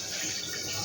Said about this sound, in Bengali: এই সর্ষেটা যে বেটে রেখেছিলাম সেই জলটা ধুয়ে দিয়ে দিলাম